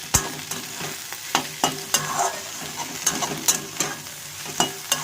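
Okra and chopped onion frying with turmeric, stirred with a spatula that scrapes the pan in repeated clicks over a continuous close sizzle, no talking.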